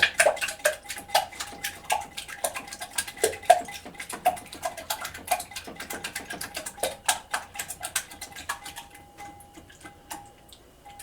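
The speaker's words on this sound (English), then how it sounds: "break them into a bowl. And I'm going to whisk them." Eggs whisked in a bowl make a fast, steady run of light metallic ticks and clinks, close and fairly loud, with the rhythm easing off slightly near the end.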